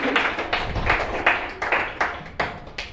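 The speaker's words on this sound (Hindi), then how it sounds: "एक बार जोरदार तालियां आलोक जी के लिए" Applause from a poetry and ghazal gathering for the poet Aalok Singh: a small audience claps in uneven bursts, with sharp individual claps standing out close and loud over three seconds.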